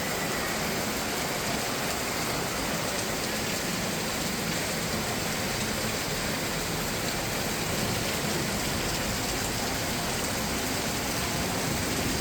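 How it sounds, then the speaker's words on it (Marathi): Heavy rain pours down in a dense, unbroken roar that holds steady throughout without letting up. "खूप जोरात आहे पाऊस, तर तुम्ही बघू शकता."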